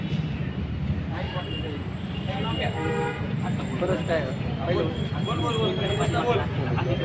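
A vehicle horn honks amid a street play about voter awareness, sounding in short harmonic toots over steady crowd chatter and ambient street noise.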